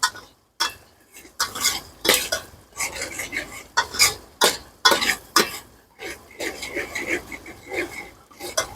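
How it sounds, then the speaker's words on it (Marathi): Onions and curry leaves fry in a pan inside a truck, with a string of sharp scraping and clattering stirs against the metal, close and fairly loud with short pauses between bursts. "याला चांगलं भाजून घेऊया कांदा लाल होजेपर्यंत"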